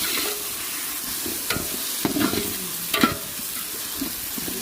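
Masala with coriander and mint frying in a pan, a continuous close sizzle broken by several spoon stirs and scrapes at irregular intervals, with no voices.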